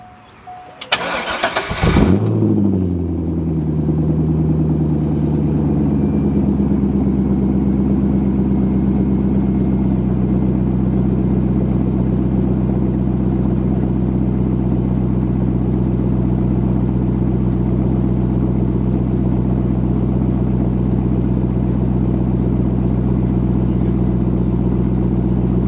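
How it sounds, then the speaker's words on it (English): A C5 Corvette V8 with a Billy Boat Bullet axle-back exhaust cranks and fires with a sharp burst on a cold start, then settles into a deep, steady, rumbling idle that continues loudly without any talking. "we'll get in there and do a cold start. Let's hear how it sounds."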